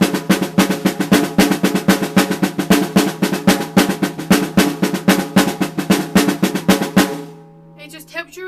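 Fast, even drum strokes of a double paradiddle with accents, sped up, played in a dense rapid stream with regular louder hits for about seven seconds before stopping and ringing out.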